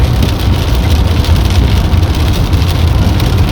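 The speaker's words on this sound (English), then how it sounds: "Now it's raining." Steady rain patters on a moving car during a road drive, mixed with a low continuous road and engine rumble, dense and even throughout with no voices.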